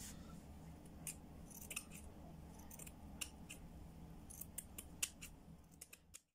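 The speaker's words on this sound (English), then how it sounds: "After I go round, I'll just trim it off." Scissors snip through mesh netting while a fascinator is being made, giving a dozen or so crisp, close cuts in an irregular rhythm over a quiet room hum.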